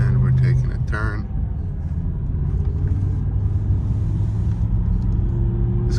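A 2006 BMW M6 drives and takes a turn, its engine a loud, steady low rumble heard from inside the car, with a voice talking briefly at the start.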